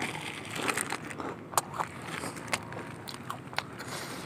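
Crunchy kerupuk Inul crackers eaten with rujak, bitten in close-up with several sharp, crisp crunches scattered over a few seconds against quiet chewing.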